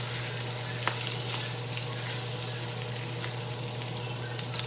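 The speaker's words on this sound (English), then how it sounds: "Put my cabbage in there. Stir it around some." Cabbage fries in a hot pan with a steady, bright sizzle and scattered crackles, stirred now and then, over a low constant hum with no voices.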